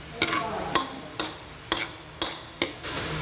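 Garlic sautéing in a pan for adobo, browning lightly in oil: a steady low sizzle broken by five or six sharp clacks of a spatula against the pan at irregular intervals.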